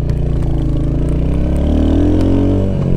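A Royal Enfield Hunter-Ceptor cafe racer motorcycle's engine runs close and loud, with a deep, steady throbbing exhaust note that rises slightly in pitch as it revs, alone with no talk.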